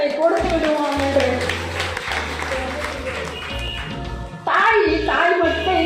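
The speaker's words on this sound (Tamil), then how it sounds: "அவங்க அம்மாவுக்கு நம்ம ஒரு பெரிய கைத்தட்டலை கொடுத்து விடுவோம்" Audience at a women's event organised by a Tamil wedding organisers' association claps for the mothers, steady applause filling the room with a swell near the end while a voice speaks over it.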